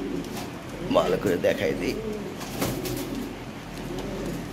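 Lahori Sirazi toy pigeons, a large breeding pair, coo softly in a few rolling phrases close by while someone talks over them.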